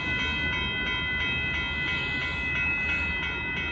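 A southbound Amtrak Texas Eagle passenger train passes the Dittmar Road crossing in Austin, Texas, with a steady, moderately loud rolling rumble and a high tonal ring throughout.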